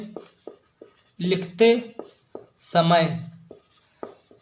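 A pen scratches across an exam answer sheet in short bursts, close and clear, alternating with a voice talking.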